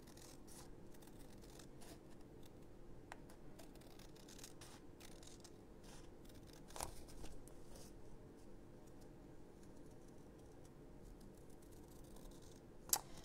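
Scissors trimming around a die-cut paper piece at a crafting desk, producing faint, close snips and soft paper rustles at an uneven pace, with one sharper snip near the end.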